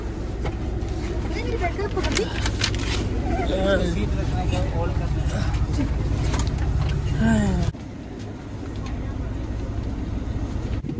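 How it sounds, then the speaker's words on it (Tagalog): Bus engine idling with a low, steady rumble at an evening stop in Oman before a ride back to Dubai, with people talking over it; the rumble drops abruptly near the end and continues more quietly. "nandito na yung bus na sasakyan namin pabalik ng Dubai"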